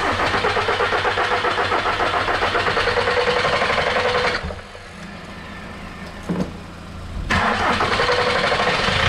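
A Skoda Octavia 1.9 TDI diesel engine, fitted with a newly replaced injection pump, cranks and catches with a loud, steady clatter. It briefly drops off, gives a short stutter, then roars back up, heard close and alone.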